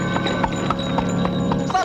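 A horse pulling a cart clip-clops along at a steady walking rhythm, the hoof strikes loud and close and evenly spaced over a low rumbling background.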